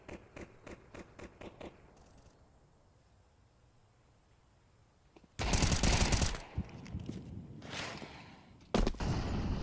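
Bursts of gunfire in a Counter-Strike esports match at BLAST Open Rotterdam, with a quick string of sharp shots early, a quiet stretch, then loud sustained firing and a final burst.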